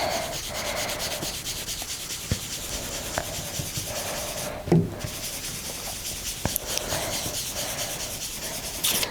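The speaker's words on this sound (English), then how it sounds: "And rub downwards." Colour being rubbed onto a craft surface for a Christmas project, a steady close dry rubbing and scraping with a few brief taps, loud and continuous with no voices.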